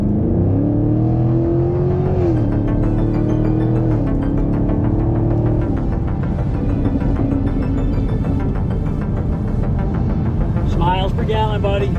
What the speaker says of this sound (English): So I'm just going to take this little drive, take you with me.